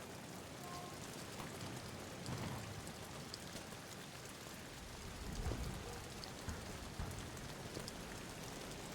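Steady rain falling on a surface, soft and distant throughout, with a few low rumbles that may be faint thunder.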